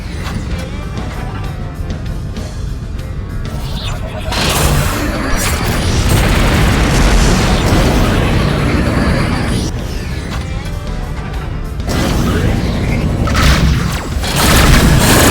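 Incoming missiles explode around a ship in the space combat game Rebel Galaxy, heavy rumbling booms and crashes swelling into long continuous blasts, loud and close with mechanical clatter between bursts.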